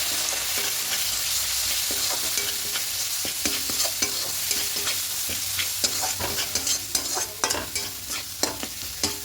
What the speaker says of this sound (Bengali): এবার সব মশলা দিয়ে খুব ভালো করে কষিয়ে নেবো